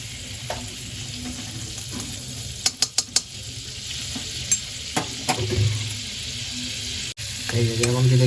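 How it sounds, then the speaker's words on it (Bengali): Butter melting in a hot pan gives a soft continuous sizzle, broken by a few quick clinks and scrapes of a utensil stirring, with some faint muffled noise but no clear speech. "বাটারটাকে এরকম ভালো করে আগে মেল্ট করে নিতে হবে"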